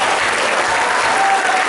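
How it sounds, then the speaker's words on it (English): A dinner audience gives a main speaker a loud, dense burst of continuous applause that fills the room, with a faint hum running underneath. "So, big round of applause for our main speaker tonight, Courtney Collier."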